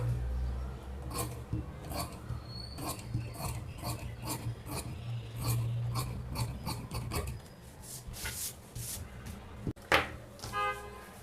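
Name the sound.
cutting blouse fabric with scissors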